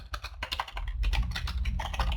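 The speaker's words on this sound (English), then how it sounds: "just typing this in real fast." Rapid typing on a computer keyboard, close and crisp, with dense irregular key clicks running steadily through the whole stretch, no talking over it.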